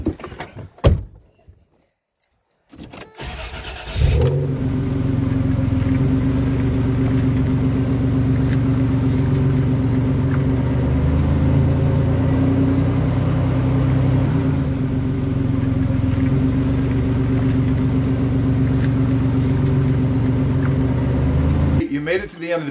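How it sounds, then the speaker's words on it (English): A Toyota truck with a newly built long-slip driveshaft rumbles steadily at close range from inside the cab for about eighteen seconds, after a door thunk and start-up, ending with another clunk. "let's jump in the truck and take for a drive"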